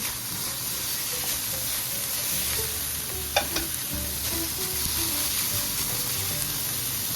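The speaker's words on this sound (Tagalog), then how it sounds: "ito na yung ating ground pork. Nagba-brown na siya." Ground pork browning in a pan with a constant bright sizzle and hiss of frying, with occasional scrapes and clinks of stirring, close up and steady throughout.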